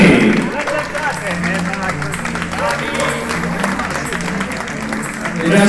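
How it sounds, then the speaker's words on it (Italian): A crowd applauding runners arriving at the finish of the Tor des Géants mountain race, clapping mixed with cheers, lively voices and general outdoor hubbub. "un grande applauso"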